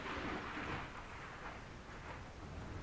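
A thunderstorm in the game Ark: Pokemon Survival Evolved, a steady faint rumble and hiss of rain and thunder filling the scene with no voices.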